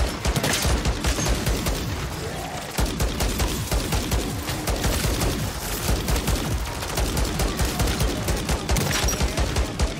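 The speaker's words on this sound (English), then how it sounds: "they have full auto guns" Full-auto gunfire in Call of Duty: Modern Warfare 3 zombies mode, with sustained rapid bursts from several automatic weapons going off continuously and loudly, overlapping with one another throughout.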